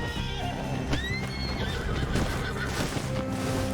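A horse whinnies loudly after tripping during a chase in Red Dead Redemption 2, the neigh rising over clip-clopping hooves and busy game noise.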